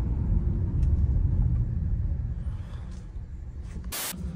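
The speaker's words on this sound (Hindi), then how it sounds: "नाउ सडन ब्रेकिंग, पीछे कोई नहीं है." A Kia Carens brakes suddenly in city traffic. Heavy low road and engine rumble eases off as the car slows, and a short hissing burst comes near the end.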